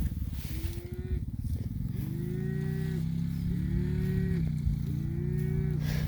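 Bulls and cows on an open pasture moo repeatedly, four long rising-and-falling calls spaced evenly over a steady low rumble of engine noise in the background.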